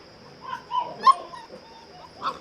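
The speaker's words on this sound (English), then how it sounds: "You're barking for your food." Small dogs whimper and give a few short yips and barks in quick bursts, close by, with quieter whining between them.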